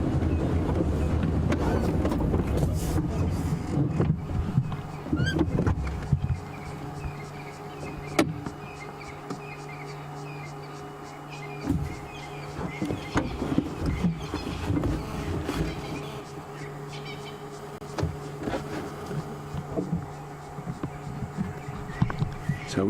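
A safari vehicle's engine idles and rumbles on a wildlife drive through the bush, a low steady drone with a hum running throughout and scattered knocks and rattles close by.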